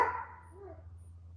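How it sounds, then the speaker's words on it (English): Neighborhood dogs barking in the distance, a faint bark at the start and another at the end of a short, quiet stretch. "There's some dogs in the neighborhood that needs good homes. I can hear them barking."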